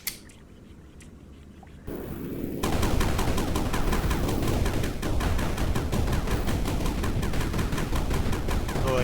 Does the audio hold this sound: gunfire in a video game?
yes